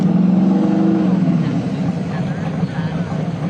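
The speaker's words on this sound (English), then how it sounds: "We're now listening to a Z28." A Chevrolet Camaro Z28 engine rumbles loudly and steadily at a classic car cruise in Redding, a deep continuous roar close by, with voices talking underneath.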